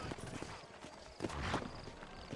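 Horse hooves clip-clop at a steady walking pace in the Western video game Red Dead Redemption, set in New Orleans, close and clear with faint ambient noise behind.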